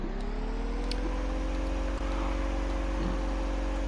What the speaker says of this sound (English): we're gonna take this tractor because it's so fast